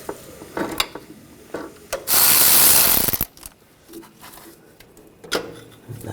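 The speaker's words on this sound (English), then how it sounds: "use a 15mm socket. Loosen this bolt up, take that out." A 15mm socket ratchet clicks in short bursts while loosening a starter bolt under a 2004-2012 Chevrolet Colorado 3.7L, with a longer, louder rasping pass in the middle, all close and without talk.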